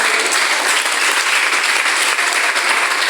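Steady, dense applause from a church congregation during worship, continuous and fairly loud throughout with no pauses.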